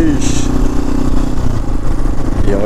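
A touring motorcycle engine runs steadily on a road trip entering Austria, a loud, close, continuous drone with a faint shifting whine near the end, and no speech over it.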